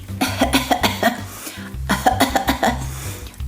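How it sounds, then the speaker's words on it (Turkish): A child playing doctor with dolls coughs repeatedly in two close fits of short, hacking bursts, near and fairly loud. "Ay çok öksürüyorum ben."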